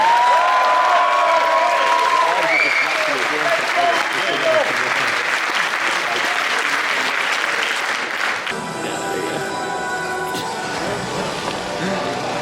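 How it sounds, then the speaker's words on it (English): Audience applause at a PCA Naturals show rolls on for about twelve seconds, dense and loud with some cheering mixed in, thinning slightly in the last few seconds as the crowd noise shifts. "a round of applause"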